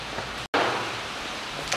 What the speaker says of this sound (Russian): Опять у нас дождь.